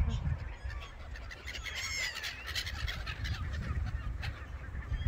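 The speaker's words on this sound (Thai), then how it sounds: "ห่านลงแล้วนะคะทุกคนเห็นไหมคะ" A flock of geese honks outdoors as the birds come down to land, their calls layered over a steady low rumble of wind and ground noise, with a voice audible in the background.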